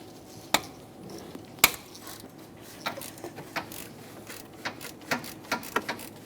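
Ratchet working the bottom starter bolt on a 2003-2007 Honda Accord 3.0L V6, with sharp metallic clicks and taps scattered irregularly over a quiet background, fairly close, without speech.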